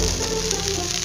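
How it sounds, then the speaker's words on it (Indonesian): Blended tomatoes hit a hot pan for nasi kebuli seasoning, producing a loud, steady, hissing sizzle that fills the moment without any talk. "Sekarang kita masukkan aja tomat yang sudah dihaluskan atau yang sudah digiling tadi di blender"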